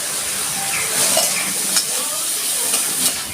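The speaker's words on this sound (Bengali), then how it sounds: "তেল গরম হয়ে গেছে, আমি দিয়ে দিচ্ছি চিংড়ি মাছগুলো।" Shrimp sizzle and fry steadily in hot mustard oil with turmeric and a little salt, a close, continuous crackling hiss with occasional stirring.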